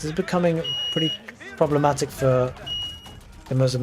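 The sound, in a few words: home alarm beeping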